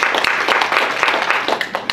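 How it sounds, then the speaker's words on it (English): A room of attendees at a membership program meeting gives a short round of applause, a burst of scattered claps at moderate volume lasting about two seconds. "Give yourself a round of applause."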